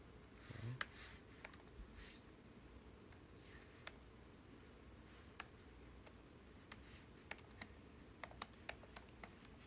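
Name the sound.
typing on EVGA SC15 laptop keyboard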